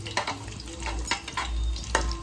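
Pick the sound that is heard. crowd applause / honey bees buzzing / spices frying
spices frying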